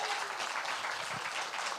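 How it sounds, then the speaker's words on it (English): A comedy crowd at The Den Theater breaks into applause, a dense patter of clapping that stays fairly even and somewhat distant for a brief stretch. "a round of applause for all the comics y'all seen so far"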